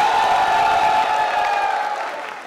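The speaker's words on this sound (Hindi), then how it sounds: "यार आप मरियम नफीस के लिए ऐसे तालियां बजाएं जैसे मेरे लिए बजाएंगे।" Studio audience clapping and cheering for actress Mariam Nafees on a talk show, a steady wash of applause with a few whoops, fading toward the end.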